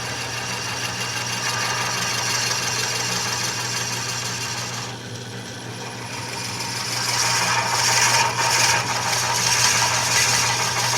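A proforme hook tool cuts wood on a running lathe, producing a continuous hiss over a steady motor hum that grows louder and rougher toward the end.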